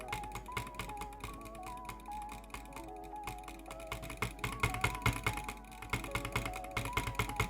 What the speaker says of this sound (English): This is an example of a fast double clicking butterfly and a slow double clicking butterfly.